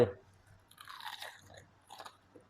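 Crispy battered fried chicken being bitten and chewed up close, a few crunchy bites spread across a short quiet stretch with no talking.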